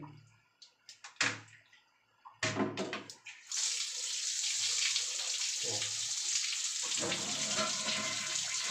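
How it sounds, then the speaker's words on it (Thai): After a few sharp clicks and knocks from a faucet being worked on, water from a pump-fed tap gushes out and runs in a loud, steady rush to the end. "มาจากปั๊มน้ำเราก็จะปล่อยน้ำทิ้ง"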